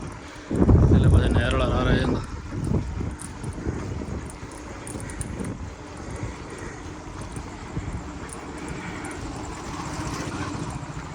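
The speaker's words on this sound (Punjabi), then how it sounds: "ਠੰਡੀ ਠੰਡੀ ਹਵਾ ਚੱਲ ਰਹੀ ਆ" Cold wind gusts buffet and rumble loudly at first while cycling in light drizzle, then settle into a steady blustery roar while people talk.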